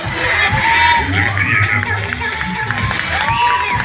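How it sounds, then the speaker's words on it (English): Audience at a children's fashion show contest in Nagaon, Assam, cheering and shouting loudly and continuously, a dense crowd roar close by with children's voices mixed in. "A big round of applause."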